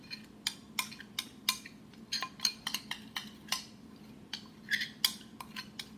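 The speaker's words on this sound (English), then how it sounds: "I want to stir this in to make sure that I have that thick consistency that I want" A spoon clinks and scrapes against a bowl while stirring a thick turmeric and honey face cream, a quiet, irregular run of sharp taps close by with no voices.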